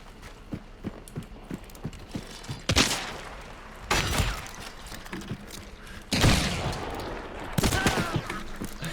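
Gunshots in an arena team-kill video game: a string of light rapid shots, then several loud sharp blasts with ringing tails, close and dominant.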